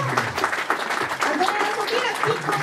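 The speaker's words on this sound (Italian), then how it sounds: "Un bel applauso per l'avvocato" Applause at a legal award ceremony for a lawyer receiving the Vis Iuridica 2017 prize, a dense, steady round of clapping from the hall at moderate volume, with voices mixed in.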